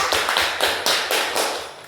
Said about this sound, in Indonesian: Kalau gitu kita beri tepuk tangan dulu sama Vida ya.